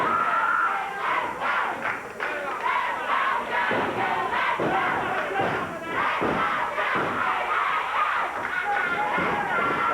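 Large wrestling crowd at a 1989 CWA Memphis championship match roaring and shouting continuously, dense and loud throughout, with some thuds from the ring and scattered yells rising above the din.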